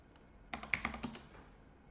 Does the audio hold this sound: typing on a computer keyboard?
yes